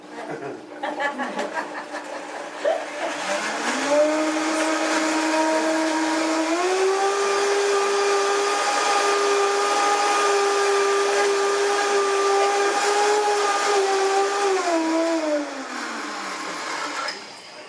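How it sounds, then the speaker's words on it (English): A kitchen blender at a chef's cooking demo whirs up to a loud, steady motor whine, holds it for about ten seconds, then spins down, with a few voices heard near the start. "So this will blend again."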